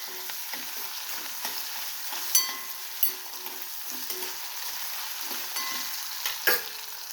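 Green chillies fry with salt in a pan, giving a soft continuous sizzle broken by sharp stirring scrapes and clinks every second or so.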